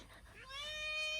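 A chatty house cat lets out one clear, rising meow at close range, bright and drawn out, with faint room noise around it and no talking.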